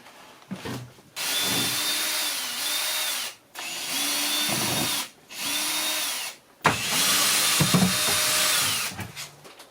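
Three bursts of a close power drill removing shower and side panels in a bus conversion, each whirring for a couple of seconds with pitch dipping under load, separated by short pauses.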